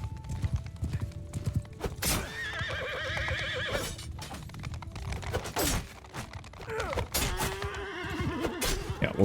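Horses gallop and whinny repeatedly in a video game cavalry battle, with close, clattering hoofbeats and several loud neighs rising over the continuous clash of combat.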